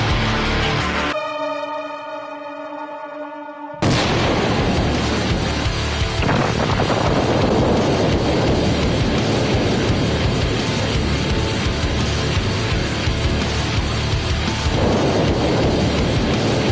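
A landmine detonates with a sudden, heavy blast that swells into a long, loud rumbling roar, sustained for many seconds after an abrupt, near silence.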